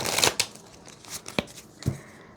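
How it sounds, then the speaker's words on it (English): A deck of tarot cards is shuffled by hand in a series of sharp riffling bursts and snaps close to the listener, separated by short pauses. "let's get a good shuffle here"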